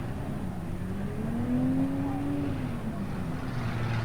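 Speedway race cars circle a dirt track at Archerfield, engine drones rising and falling in pitch as they pass, heard at a distance with a steady crowd-like background wash.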